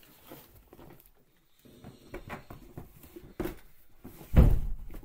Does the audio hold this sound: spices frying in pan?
no